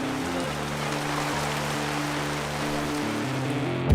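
Steady rain hisses down at a motorcycle airstrip event, a constant wash of falling drops over a low humming tone, even and unbroken throughout.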